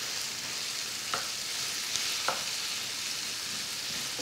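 A vegetable and chicken filling fries in a pan with a steady sizzle, while a spoon scrapes and stirs it, giving a few soft clinks over the constant crackle.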